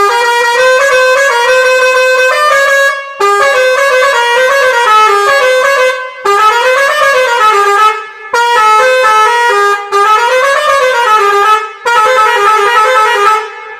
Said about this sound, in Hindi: प्रेशर हॉर्न की बात करें तो यहाँ पर देख सकते हो आपको पियानो प्रेशर हॉर्न हमने यहाँ पर